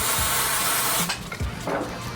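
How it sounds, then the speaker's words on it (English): A close aerosol can of super glue accelerant sprays in one continuous hiss for about a second while a black bear mount is assembled, followed by a few quiet handling clicks and a softer short hiss. "We'll spray a little accelerant in there."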